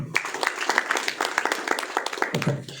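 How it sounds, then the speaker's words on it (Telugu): An audience claps at a gathering, a dense run of brisk overlapping handclaps that fades out near the end. "సార్ క్లాప్స్ కొట్టండి"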